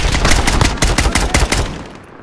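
Rapid automatic gunfire from a gun in Call of Duty Cold War, a loud burst of close, evenly spaced shots lasting about two seconds before fading out.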